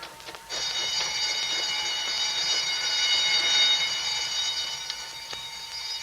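A statewide emergency alarm from a 1942 radio drama rings out steadily and loudly, a continuous high-pitched tone that holds for several seconds before easing slightly.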